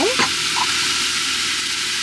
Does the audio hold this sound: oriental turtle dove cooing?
no